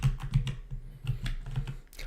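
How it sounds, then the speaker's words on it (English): Typing on a noisy computer keyboard, with a steady run of close, clattering keystrokes in an irregular rhythm and no talk. "You folks probably hear me type, and it's probably a nuisance to hear that."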